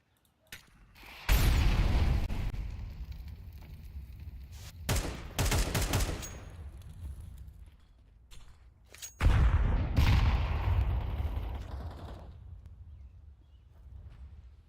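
Gunfire in a competitive video game match with Mac 10 and AK-47 weapons: loud bursts of rapid shots in two main volleys, with a few shorter pops between them and no talking.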